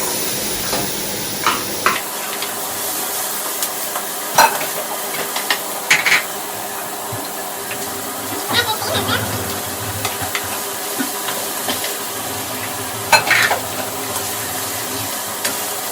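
Carrots stir-frying in a pan for mixed vegetables, a soft steady sizzle broken by occasional scrapes and clinks of a utensil.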